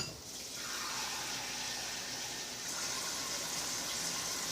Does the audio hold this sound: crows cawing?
no